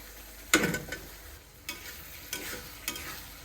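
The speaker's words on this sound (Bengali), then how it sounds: "এইটা এখন ভালোভাবে কষিয়ে নেব" Peas and potatoes being stirred in hot spices in a pan, with soft frying sizzle under a few scraping strokes of a spatula, one stronger stir at first and then lighter ones, close and fairly quiet.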